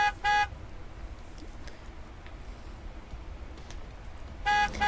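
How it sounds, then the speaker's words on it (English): A delivery truck in the video game Love and Deepspace honks urgently with two short, loud horn blasts, one at the start and one at the end, over a low rumbling game background. "Amid urgent honking, Philos' delivery truck bursts through the barrier and stops with his rear cargo area facing us."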